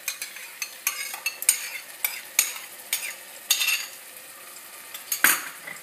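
A utensil stirs fish soup ingredients sautéing in a pan, producing quick, bright scrapes and clinks in an uneven rhythm over a faint frying hiss, close and without speech.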